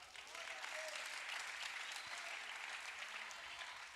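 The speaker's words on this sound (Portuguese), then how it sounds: "Dê um aplauso." A church congregation at a youth congress breaks into applause, a soft steady wash of many hands clapping that swells and holds, heard from a distance with a few faint voices.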